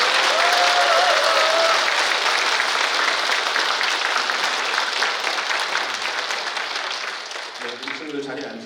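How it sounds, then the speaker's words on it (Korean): Congregation applause rings out through a church during Mass, a dense, steady wash of many hands clapping that carries on for several seconds, then thins and fades toward the end as a few voices start to be heard. "박수 한번 부탁드립니다"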